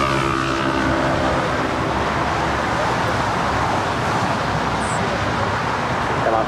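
Airplane rolling for takeoff on runway 25 right at LAX, a loud continuous roar of jet engines with deep rumbling and a strong broadband rush, steady and close throughout, with faint tonal whine.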